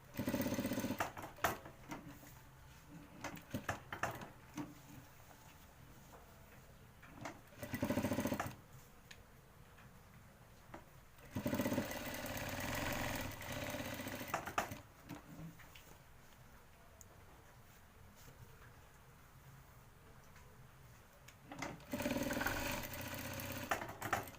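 Sewing machine stitching a shirt pocket, heard as several separate bursts of fast rhythmic mechanical whirring lasting a few seconds each, with quiet gaps in between.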